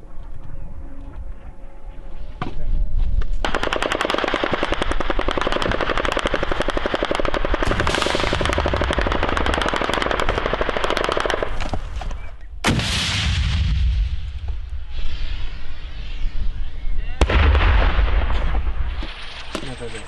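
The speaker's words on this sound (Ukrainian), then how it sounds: "Це вже по нас стріляють?" Heavy machine gun and artillery fire in combat near Bakhmut, with sustained rattling bursts and loud booming impacts over about twenty seconds, close and intense, with brief voices between volleys.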